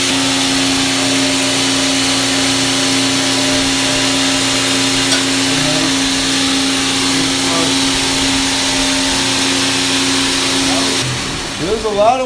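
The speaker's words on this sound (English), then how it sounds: "So we'll go ahead and grind." A belt grinder works a forged chef's knife blade, a loud, continuous mechanical drone with a steady tone that holds for about eleven seconds before cutting off abruptly.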